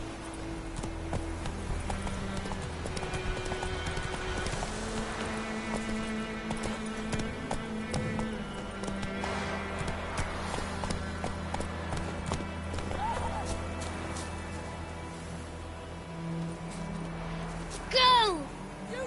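Horse galloping in The Witcher 3 video game, rhythmic hoofbeats pounding steadily under music and ambience, with a brief louder burst near the end.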